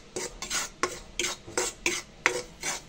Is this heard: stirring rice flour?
yes